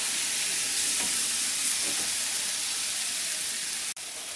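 Potatoes and vegetables fry in a pan for a Bengali shim aloo posto, a steady close sizzle with soft stirring scrapes running throughout, no voices.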